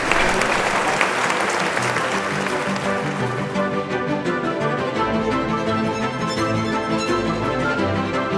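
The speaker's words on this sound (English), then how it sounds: "how about a round of applause for everyone who prepared for me?" Sustained applause rolls on for the people who prepared a farm meal at Epiphany Farms, many hands clapping steadily and loudly throughout, with a low hum underneath.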